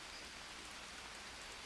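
Steady rain pattering down in a survival video game, a dense, even hiss of falling drops that holds constant throughout with no voices.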